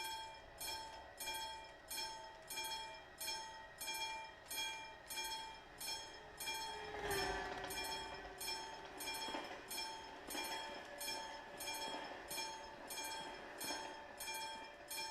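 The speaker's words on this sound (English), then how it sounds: "Two more trains incoming!" Trains pass in Euro Truck Simulator 2 with a rhythmic clickety-clack of wheels on rail joints repeating steadily. A brief louder rumble comes near the middle, all fairly faint with no talk.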